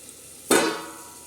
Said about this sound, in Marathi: तर हे बघा, असं छान तडका बसतोय